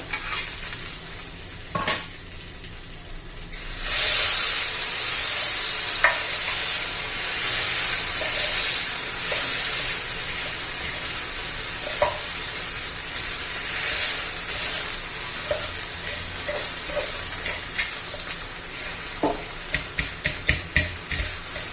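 A hot pan taken off the heat while chili thecha with roasted peanuts is scraped and crushed in it with a lota, a loud steady sizzle with intermittent scraping and knocking that grows to sharper repeated taps toward the end.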